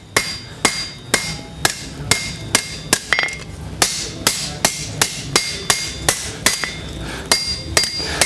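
Steady hand-hammer blows ring out on hot copper over an anvil while forging a spatula, about two strikes per second, loud and close, each a sharp metallic clang with brief ring.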